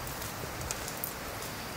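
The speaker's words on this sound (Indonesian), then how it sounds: "Ini hujan hari ini" Steady rain falls at night, a dense, even hiss with faint scattered drop ticks, continuous and moderately distant with no voices.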